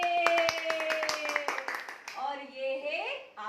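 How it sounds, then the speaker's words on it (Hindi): Children clap their hands in a quick run of sharp claps at a steady rhythm, close by, while a voice sings and speaks over them. "ताली बजाओ"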